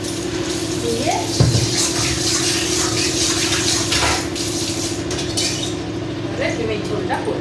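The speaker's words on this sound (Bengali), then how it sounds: "এবারে কড়াইটা ভালো করে ধোবো" A wok (kadai) is washed under running water, with a steady rushing stream, splashing, and occasional metallic clinks and scrapes as it is handled; a low hum and a brief voice sit underneath.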